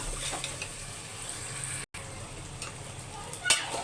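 Beef and potatoes sizzle as they are sautéed in a pan, making a steady frying hiss with occasional stirring scrapes and a brief dropout midway. A faint voice is heard in the background.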